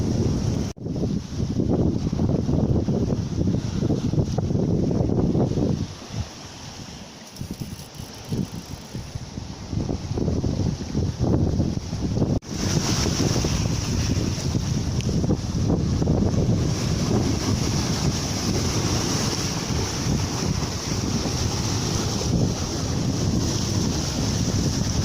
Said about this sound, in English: 22 knots of wind, dead downwind, wind pilot steering.